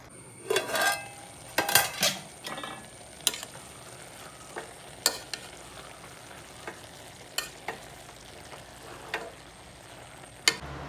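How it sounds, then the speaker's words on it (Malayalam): Five tomatoes being stirred and sautéed in a pressure cooker for chicken biryani, with a soft sizzle beneath repeated clinks and scrapes of a spoon against the metal pot, spaced irregularly, no voices. "ഇതൊന്ന് വഴഞ്ഞു വരണം ഇളക്കി യോജിപ്പിച്ച്"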